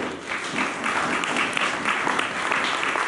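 Congregation at a French-language church sermon applauding and cheering in acclamation of the Lord, a steady dense wash of clapping filling the whole span with a faint voice or two mixed in.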